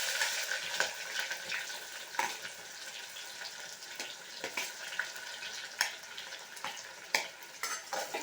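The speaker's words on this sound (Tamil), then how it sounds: "இப்போது கட் பண்ணி வச்ச ஆனியன் சேர்த்துருங்க." Chopped onion frying in hot oil with cinnamon and fennel for mutton kulambu: a soft, steady hiss broken by sharp clinks and scrapes of a spoon against the pan.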